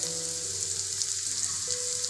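Potatoes drop into hot oil for mini aloo singara filling, giving a steady bright sizzle that holds evenly throughout, close and moderately loud, with faint background tones underneath and no one speaking.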